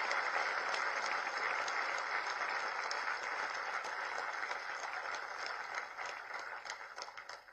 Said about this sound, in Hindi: जोरदार ताली बजा करके हम इनका धन्यवाद करें